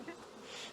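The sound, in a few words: honey bees buzzing in a hive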